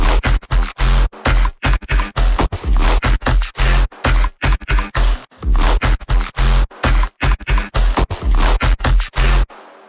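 Gritty, chopped bass notes pulse in a fast, stuttering rhythm with abrupt gaps between hits, loud and upfront with no voices.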